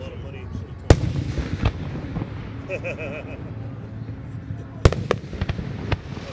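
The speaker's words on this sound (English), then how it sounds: "They were huge fireworks." Several sharp, loud bangs of large Fourth of July fireworks burst at irregular intervals over steady background noise, with people talking and laughing throughout.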